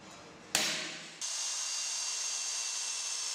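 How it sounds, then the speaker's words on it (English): A drill bites into a metal plate for a gasification stove with a sharp onset, then settles into a steady, close, high-pitched grinding hiss that continues without pause. "Now the upper and lower holes are drilled into the plate"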